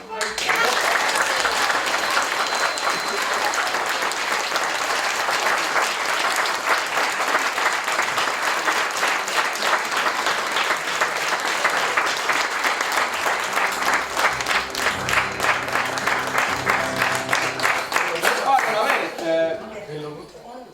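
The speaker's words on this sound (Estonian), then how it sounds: "Ma tahaksin ühe suure aplausi saatele teha üle." A large audience claps in a long, dense, steady round at a Hanila song and play society show, holding at full strength for about twenty seconds before tapering off at the end, with some voices mixed in.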